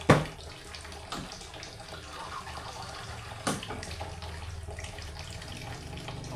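Water poured into a cooking pot, a steady splashing trickle with a sharp clunk at the start and another knock midway, under a low background hum.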